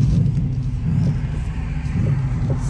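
A rebuilt Dodge Challenger driving with a suspected sway bar noise underneath, heavy low engine and road rumble dominating, with faint intermittent knocks and rattles from the underside.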